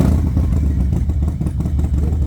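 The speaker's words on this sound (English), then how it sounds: "I'm gonna roll this bike outside and start it up" Motorcycle engine firing up and idling, a loud, close, steady low rumble with clattering throughout.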